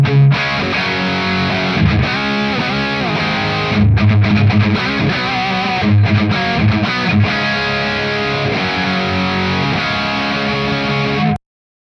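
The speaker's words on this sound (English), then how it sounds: "So there's high gain, low gain," A distorted electric guitar played through ADA amp profiles on a Kemper Profiling Amplifier, dense overdriven chords and riffs ringing loud and continuous for the whole stretch before stopping abruptly, with no talking.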